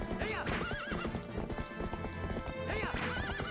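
A horse gallops in The Legend of Zelda: Twilight Princess HD, rapid hoofbeats clopping under loud whinnying neighs, with game sounds layered around them.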